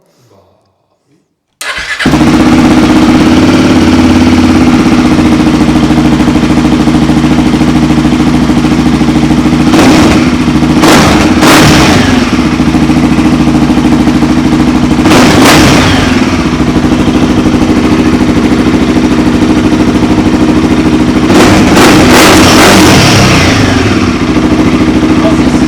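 A Royal Enfield Himalayan 450 motorcycle fitted with a Corse exhaust cranks and fires after a brief quiet moment, then settles into a loud, close, steady idle broken by several sharp revs.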